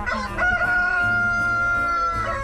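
A Rhode Island Red rooster of mahogany coloring, imported from the US and raised free range, crows loudly and close by in one long harmonic call, with hens clucking faintly around it.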